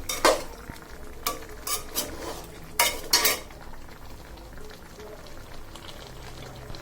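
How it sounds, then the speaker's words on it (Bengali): Winter vegetables being stir-fried for a rohu fish bhuna, with repeated scraping stirs of a utensil against the pan over a soft sizzle, nearby with no talk. "সবজিগুলো দিয়ে দিছি ভালোভাবে কষে যাক তারপর মাছগুলো দিয়ে দিব"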